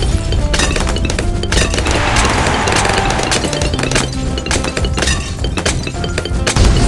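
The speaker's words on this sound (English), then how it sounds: "burn it! Fire bomb!" A fire bomb explodes in the video game Bloons TD 6, a loud, dense wash of crashing, smashing bursts that runs without a break for several seconds.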